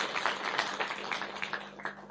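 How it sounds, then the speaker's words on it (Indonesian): An audience at a training seminar claps on cue, a faint, quick patter of many hands continuing for a couple of seconds. "Tepuk tangan Anda semua"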